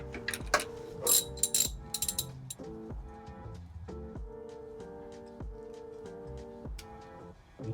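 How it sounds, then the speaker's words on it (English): A wrench torques the front bolts of a 2003 Infiniti M45 to 100 Newton meters, producing a steady run of close, evenly spaced ratchet clicks that continues alone for several seconds. "Now we're gonna torque the front bolts to 100 Newton meters."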